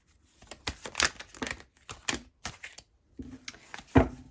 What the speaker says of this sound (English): Sloppy shuffling.